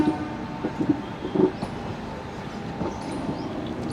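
Meter gauge passenger train running on track between Veraval and Junagadh, a steady broadband rumble of wheels and carriages with a few clattering bumps near the start, continuous and fairly close.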